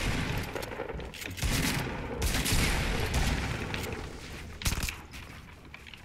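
Gunfire in a Fortnite match comes as bursts of shots and booms over a busy, rumbling game mix, fading in and out at moderate loudness with no clear talk.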